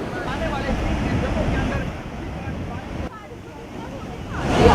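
The Tawi river in Jammu, swollen by floodwater after heavy rain, gives a steady broadband rush of flowing water with wind buffeting, loud and close throughout, briefly dipping before swelling again at the end.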